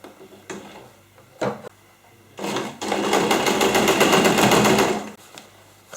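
Sewing machine stitching a seam on recycled denim jeans, with two quick mechanical bursts followed by a longer, rapid, steady chatter of stitching about two seconds long, then a pause and a brief clatter, all close up.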